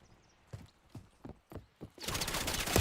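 Video-game gunfire: several sharp separate shots crack out one after another, then a dense loud burst of rapid fire fills the end, close and harsh.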